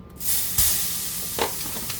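Garlic sautés in olive oil in a pan, producing a loud, dense hiss that swells in quickly and holds steady, with a brief crackling burst partway through.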